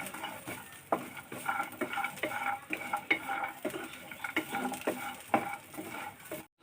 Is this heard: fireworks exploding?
no